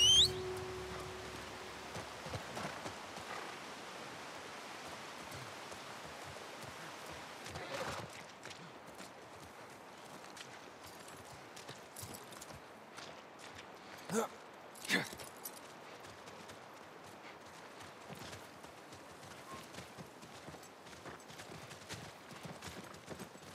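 Horse hooves clip-clop steadily at a walking pace under low background ambience, with a few louder thuds partway through, in the video game The Last of Us Part 1 on PS5.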